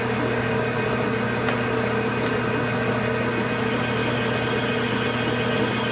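A high-speed steel bit turning at 460 RPM cuts into metal, giving a steady machine drone with a constant hum and a couple of faint ticks along the way.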